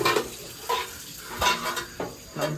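Clinking and scraping of pots and dishes being handled and washed, a few separate knocks close by, fairly quiet.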